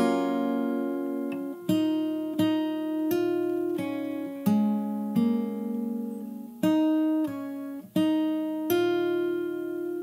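Fingerstyle acoustic guitar plays the melody of a song, plucked notes and chords ringing in a moderate rhythm, clear and close with no voices.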